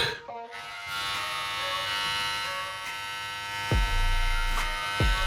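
A steady electric buzz from a running shaver, constant and close, with a couple of brief thumps as it is handled.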